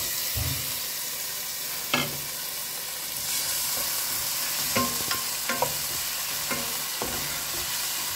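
Tomato and chili sauté in a pan, holding a steady mid-level sizzle with occasional spoon scrapes and light taps against the metal, without any talking.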